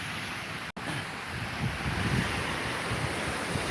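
Ocean surf rolls onto a beach in a loud, steady wash of broadband noise, with wind buffeting the microphone throughout and a brief dropout near the start.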